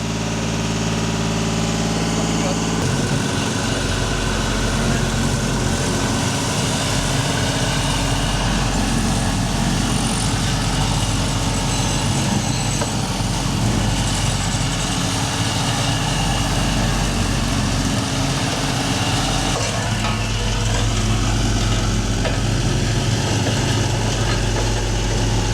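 Terex Benford TV1300 roller engine running, a loud constant diesel drone with heavy rattling vibration throughout, close by and without pause.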